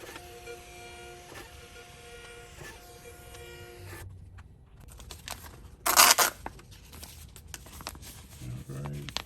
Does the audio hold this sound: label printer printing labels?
yes